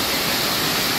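A waterfall at Malshej Ghat pours down in a loud, steady broadband roar of falling water, close and unbroken with no voices.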